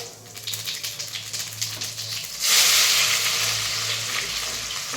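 Chicken meat frying in a pan, a close bright sizzle with scraping stirs that swells suddenly louder about halfway through and stays loud afterward.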